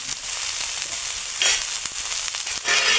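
Washed cabbage sizzling in hot oil, a dense, bright frying hiss throughout with crackling pops and louder surges as it settles and is stirred.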